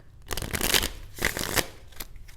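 A deck of oracle cards is shuffled in a few quick riffling bursts, close and crisp, with short pauses between the flurries and no talking.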